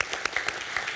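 Audience applause in a room at a film event in Las Cruces, New Mexico: a short burst of scattered claps, fairly faint and steady.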